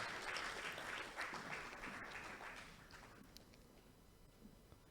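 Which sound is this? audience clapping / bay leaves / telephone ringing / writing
audience clapping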